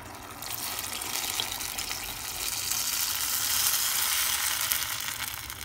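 Water pours into a cooking pot on the stove for a winter meal, a steady broadband rush and hiss lasting throughout, close and fairly loud, with no talking.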